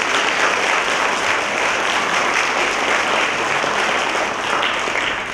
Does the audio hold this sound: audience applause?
yes